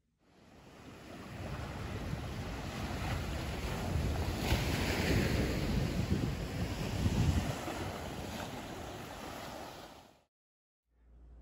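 A homemade ocean drum built from a cardboard pizza box, tilted so its contents roll and wash like breaking surf. The sound swells for about ten seconds, then stops abruptly.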